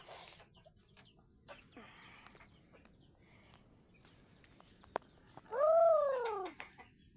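Soft chicken clucks and scratchy bird sounds in a quiet farm yard, then a louder drawn-out call near the end, with faint voices in the background.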